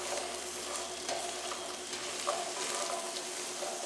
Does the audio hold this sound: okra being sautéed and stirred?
yes